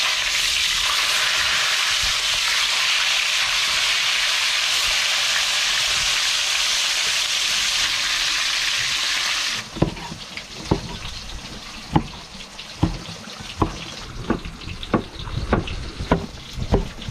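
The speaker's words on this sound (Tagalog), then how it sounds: "prito tayo ng mga lapu-lapu mga master" Lapu-lapu grouper fry in oil aboard a boat: a loud, dense sizzle fills the first half, then cuts to quieter spitting with sharp periodic clacks and pops, no talking.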